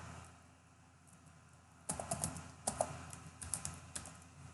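Keys clack on a computer keyboard as a disk-encryption password is entered, a quiet hum followed by a quick burst of close, crisp keystrokes in an uneven rhythm.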